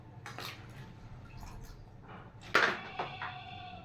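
Water draining and dripping off freshly washed taro leaves as they are lifted, with soft splashes and a sharper wet clatter near the end, close and fairly quiet.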